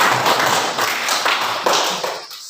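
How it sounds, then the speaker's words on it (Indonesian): Classroom applause for a student discussion group, a dense burst of many hands clapping together at close range, steady for a couple of seconds before thinning out toward the end. "Mari kita tepuk tangan untuk kelompok 3."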